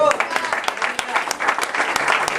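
A church congregation claps in praise, a lively run of sharp, close hand claps mixed with voices throughout.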